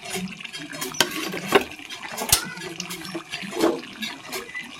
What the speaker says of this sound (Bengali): গরম পানি দিয়ে দিলাম।